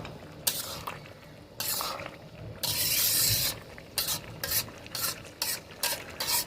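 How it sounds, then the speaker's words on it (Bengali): Mutton curry being sautéed and stirred in a pan until the water dries off, with steady sizzling broken by bursts of loud scraping and clattering stirring strokes, close up, no voices. "জলটা শুকিয়ে আসা অবধি আমরা ভালো করে কষিয়ে নেব।"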